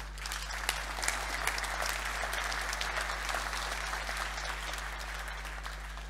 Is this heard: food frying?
no